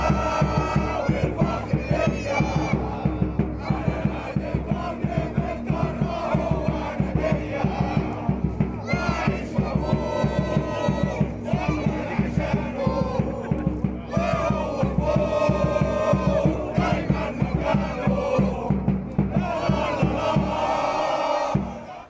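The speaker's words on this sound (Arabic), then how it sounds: "ونسمع اصوات الجمهور" Al Ahly football fans chant loudly around the stadium before a match against Bayern Munich, a dense roaring crowd with rhythmic claps and sustained sung chants throughout.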